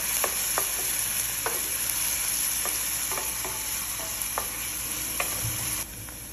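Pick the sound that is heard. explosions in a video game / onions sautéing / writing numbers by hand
onions sautéing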